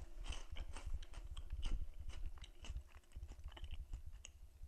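Crunchy green wasabi corn puffs being bitten and chewed close up, a steady run of crisp crunches with no talking.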